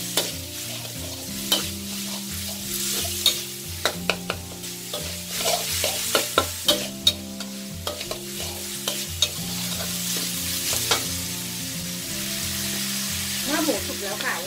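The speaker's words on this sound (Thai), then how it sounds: "ลวนหมูให้สุกก่อนค่ะ" Pork being stir-fried until cooked in a Thai home kitchen, a loud continuous sizzle with frequent scraping and clanking of a spatula against the pan, over faint background music.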